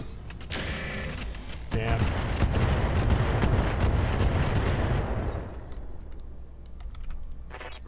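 Mech weapons firing in the Roguetech battle game: a dense roar of rapid gunfire and explosions builds loud and sustained for several seconds, then thins into scattered sharp cracks and clicks, with no one talking over it.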